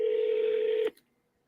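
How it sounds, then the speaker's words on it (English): A phone dials out on a cold call, giving a single steady tone that holds for just under a second and then cuts off into near silence. "So about to dial them up right now."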